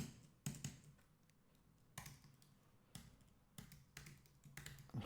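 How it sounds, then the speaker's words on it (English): Someone types on a computer keyboard while programming, close and crisp, with irregular bursts of key clicks separated by short pauses, alone without voices. "hopefully the keyboard isn't going too crazy and it's not too noisy on the microphone"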